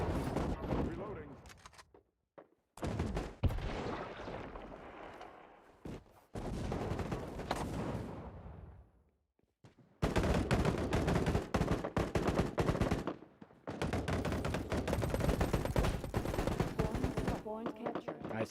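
Automatic gunfire sprays in bursts in the shooter game Battle Prime, loud sustained volleys separated by short pauses.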